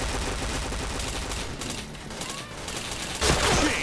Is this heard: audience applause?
no